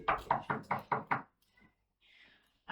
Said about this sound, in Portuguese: eu estou batendo na porta.